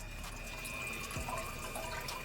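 Water splashes and sloshes steadily inside the air-to-water intercooler tank of a Gen5 Whipple supercharger on a Cobra, circulated by an EWP150 electric water pump, a continuous close-up wash of liquid with no talking.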